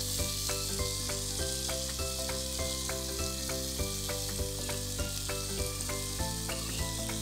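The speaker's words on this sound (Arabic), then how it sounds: "هنزل عليهم بقى بشرايح الفراخ اللي قطعناها" Sliced chicken sizzles in a pan with peppers and vegetables for fajitas, a loud continuous frying hiss with occasional stirring, heard close over background music.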